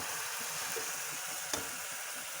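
Potato tomato gravy frying in a pan, a steady soft sizzle that runs throughout, with a single brief scrape of stirring partway through, heard close and without any talk.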